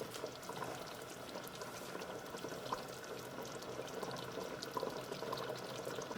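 Beef biryani sauce bubbles in a pan over raised heat, a steady close simmer with soft popping and a constant liquid hiss that holds evenly throughout.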